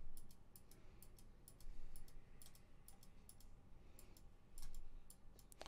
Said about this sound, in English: And all I'm doing is just clicking, dragging,